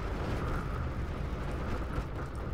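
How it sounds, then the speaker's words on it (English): Napalm bursts over trees in the Steel Division Normandy 44 war game, a loud, continuous rumbling roar of fire and explosions with a deep low-end boom, sustained throughout. "They napalm these trees again"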